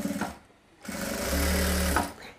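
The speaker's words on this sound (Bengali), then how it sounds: "তো দেখুন সেলাইটা আমরা এখন এইখান থেকে ধরবো।" A sewing machine stitches a pillow cover in a quick burst, its motor whirring loudly and steadily for about a second after a brief pause.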